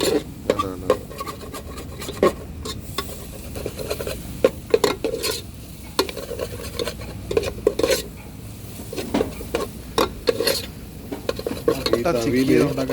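Eggs scrambled in coconut oil in a pan, with a spatula scraping and clattering against metal in an uneven rhythm of sharp strokes over a faint sizzle, close and fairly loud.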